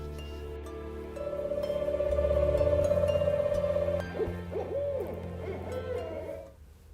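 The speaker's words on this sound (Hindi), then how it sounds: "रंग रूप और आकार में विशालकाय ये उल्लू गिरिडीह के ग्रामीणों के बीच कौतूहल की वस्तु जरूर बना हुआ है" A giant owl near villages in Giridih hoots in long, low, steady calls, followed by shorter wavering cries, close and clear against a quiet background with no talking.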